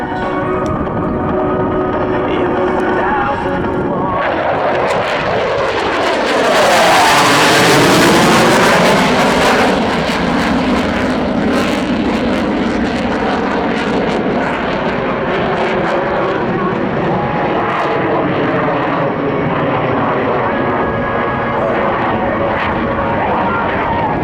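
An RCAF CF-18 Hornet jet fighter flies past at an airshow, its roar swelling loud with a sweeping pitch shift as it passes overhead, then trailing off into a long rumbling wash.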